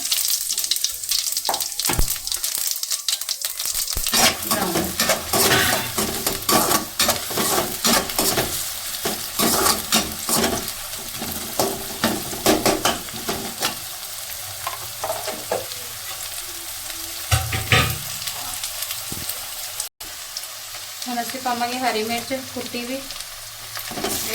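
Cumin seeds crackle and sizzle in hot oil for a gobhi sabji, a steady dense frying hiss with scattered pops and occasional stirring scrapes, close and fairly loud throughout.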